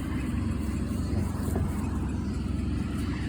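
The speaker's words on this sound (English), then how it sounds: "Sorry for the road noise." Steady roar of passing cars and heavier vehicles beside a busy main road, a dense continuous low rumble with no breaks, heard from a sidewalk where coins are being picked up for silver.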